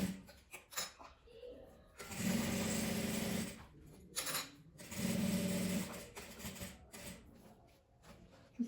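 Sewing machine stitching along the edge of fabric bias binding, two short bursts of steady motor whir with gaps of handling noise and soft speech between them, fairly quiet and close.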